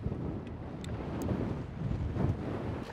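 Wind blowing on a fishing boat during a walleye tournament on the pillars: a steady, loud, low rumbling buffet of wind across the microphone, continuous throughout with no voices.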